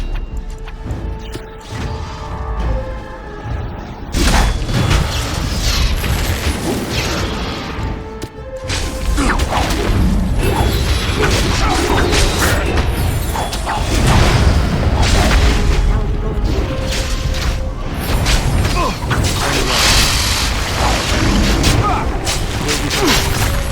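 Heavy booming explosions from bombs in the fantasy video game Dragon Age: Origins, loud and repeated over about twenty seconds, layered with crashes, whooshes and game voices.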